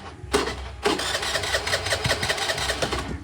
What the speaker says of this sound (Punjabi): ਹੁਣ ਐਕਟਿਵਾ ਮੈਂ ਬਾਹਰ ਕਰਕੇ ਸਟਾਰਟ ਕਰਨ ਲੱਗਾ